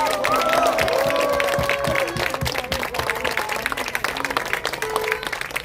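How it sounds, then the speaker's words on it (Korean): A crowd outside a detention center at a welcome rally claps in a thick, continuous burst, with cheering voices and shouts mixed into the applause throughout. "서로를 위해서 박수 한 번 부탁드립니다"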